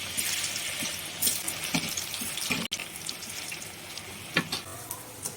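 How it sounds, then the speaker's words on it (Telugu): French fries frying in hot oil give a continuous bright, hissing sizzle with scattered crackles and pops, moderately quiet, with a sharp clatter partway through and no speech. "ఇప్పుడైతే ఫ్రెంచ్ ఫ్రైస్ అయితే వేగుతున్నాయి అన్నమాట"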